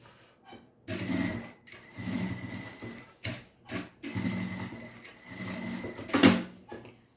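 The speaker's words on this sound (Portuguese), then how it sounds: "Eu vou costurar o forrinho para ele não ficar subindo." A sewing machine stitches the lining of a fabric clutch bag in several short bursts of rapid whirring, separated by brief pauses, heard close and fairly quiet.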